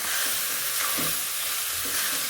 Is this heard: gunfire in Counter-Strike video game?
no